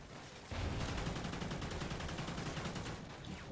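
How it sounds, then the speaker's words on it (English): Rapid enemy gunfire in Call of Duty: Ghosts rattles on almost nonstop as dense automatic bursts of shots, loud and close, starting after a short quiet lead-in with no talking. "There's a lot of them shooting from the side"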